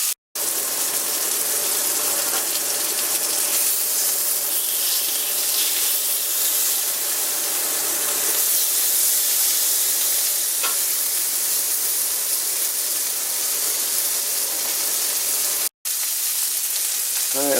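A burger patty frying in a cast iron pan, a loud, continuous hiss and crackle of sizzling fat that runs almost unbroken, with a brief cut near the end.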